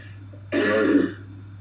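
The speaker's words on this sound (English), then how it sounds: "I'm coughing really bad" A single rough throat clear with a cough-like burst, close and brief, over a low steady hum.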